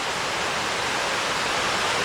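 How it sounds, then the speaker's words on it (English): Foaming waterfall cascades on Hornbecks Creek, a loud continuous broadband rush of falling water, steady and unbroken, heard alone. "You see a whole series of foaming cascades down there."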